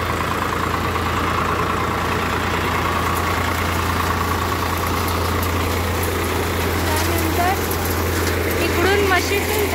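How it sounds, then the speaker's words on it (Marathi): A soybean threshing machine hooked to a tractor runs outdoors, a loud steady low engine drone with mechanical rattling and whirring throughout, with faint voices toward the end. "अशी ही मशीन ट्रॅक्टरला लावलेली असते"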